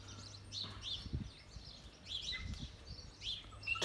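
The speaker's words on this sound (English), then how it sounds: "listen to all the birds." Several birds chirp and tweet in short, high bursts scattered across the clip, moderately distant, with faint low rumbling underneath and no talking.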